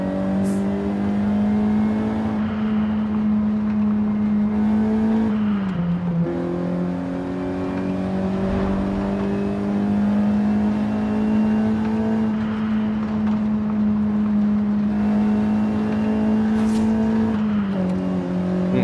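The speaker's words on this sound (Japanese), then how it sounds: "シフトアップシフトダウンの時の音がかなりリアルに作られているなって感じですね" Nissan Silvia S15 Spec-R engine in Forza Horizon 5 revving loudly and continuously, with brief dips at the gear shifts as it climbs again, no talk over it.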